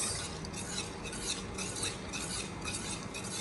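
A spoon stirs gram flour batter continuously in a pan for pitod, giving soft rhythmic scraping and swishing strokes over a faint cooking hiss, with no voices.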